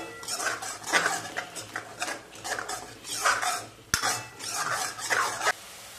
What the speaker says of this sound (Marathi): असं 1 मिनिटभर असं परतवून घेऊ।